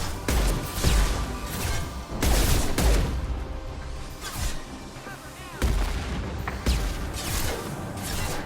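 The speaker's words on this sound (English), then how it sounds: "Firing a high-impact shot." Heavy, high-impact gunshots in Mass Effect 2, played on Insanity difficulty: several booming, loud blasts spaced a few seconds apart, with quieter combat noise between them.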